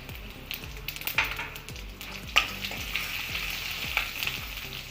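Dried red chillies and garlic fry in hot oil, giving a steady close sizzle and crackle with occasional sharp pops and the scrape of stirring, with no talking.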